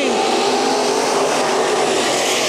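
Race cars roar off together at the green flag in a Bakersfield Speedway heat race, a loud, dense engine wall at full throttle close to the track with faint tire noise.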